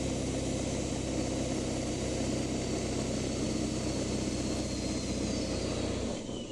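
A 7.3 Powerstroke diesel truck hauling a heavily loaded trailer of about 18,000 pounds climbs a grade in fourth gear, its engine droning loud, steady and close throughout, easing off briefly near the end.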